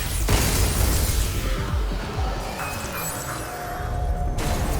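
Explosions in the video game Pragmata, a rapid cluster of booming blasts and crashing debris, loud and dense, with no talking.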